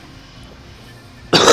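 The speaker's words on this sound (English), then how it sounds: "This cough will not go away." A single short, loud cough bursts out at the very end after near silence, close to the microphone, from a person streaming a Phantasy Star Online game.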